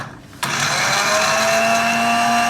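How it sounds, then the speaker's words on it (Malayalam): A kitchen mixer grinder starts abruptly and runs steadily, crushing food with a loud, continuous high-pitched whir that holds level after the switch-on. "മിക്സിയിൽ ഇട്ടിട്ട് ചതയ്ക്കുക."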